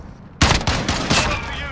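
A burst of rapid gunfire in a 3v3 shooter gunfight: a sudden loud volley of close, overlapping shots after a quiet start, continuing in rough bursts.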